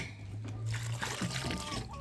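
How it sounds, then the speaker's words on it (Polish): Water pours into a chicken feed mixture, a soft, continuous trickling and splashing that runs for a couple of seconds at close range, with no talking over it. "Dolewamy."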